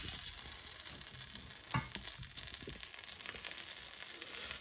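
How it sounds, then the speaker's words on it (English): Butter browning in a hot pan with thyme and garlic nearby, a steady soft sizzle and crackle running throughout with a brief sharper spatter midway. "What we're going to do is just caramelize the milk solids in the butter."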